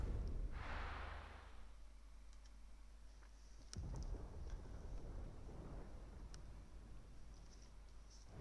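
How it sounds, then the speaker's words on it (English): Thunder in Final Fantasy XVI, a faint, distant rumble with a soft crack partway through, all over a quiet low background. "Sounds like thunder."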